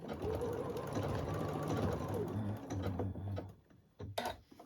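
Sewing machine stitching a small quilted table runner, a steady close whirring hum of needle strokes that slows and stops, followed by a few short clicks and clacks.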